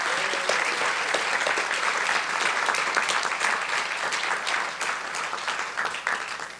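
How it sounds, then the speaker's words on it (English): An audience applauds at the grand opening ceremony of a transit division, a sustained, dense wash of many hands clapping from a sizable crowd, loud and steady for several seconds before slowly tapering, with no clear speech over it. "Can we just give another round of applause?"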